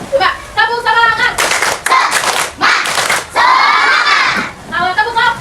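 A classroom of students performs a rhythmic spirit clap in quick bursts of hand claps, with loud shouted chants between them. The teacher's voice is heard at the start and end.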